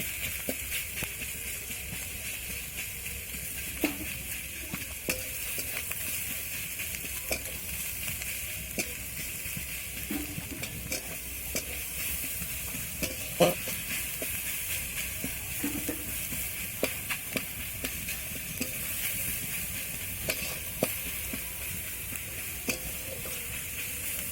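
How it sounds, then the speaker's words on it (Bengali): Chhatu (straw mushroom) frying in a pan over chopped onion and chili, giving a steady close sizzle throughout with occasional scrapes and light knocks of a spatula stirring it. "এর উপরে ছাতুটা দিলাম দেখুন একটু ভালো করে ভাজতে হবে"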